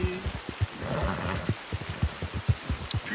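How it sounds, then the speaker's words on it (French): Steady rain pours in the Red Dead video game, a soft even hiss with scattered dull drop thuds running throughout. "Putain, mais il pleut bien là."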